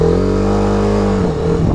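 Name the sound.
TVS Apache RR310 motorcycle revving and accelerating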